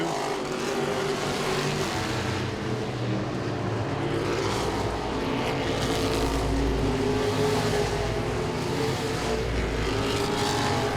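Modified race cars roar around Langley Speedway in a continuous, loud, dense engine drone that swells and fades as the cars pass, with no voices heard.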